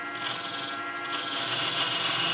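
A beading and parting tool cuts a tenon into spinning wood on a lathe, producing a steady, close scraping hiss with a sustained ringing tone that grows slightly louder.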